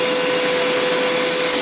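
A Hoover Power Scrub carpet cleaner works on a couch, giving a loud, steady motor whine with a constant pitched hum and no pauses from start to finish.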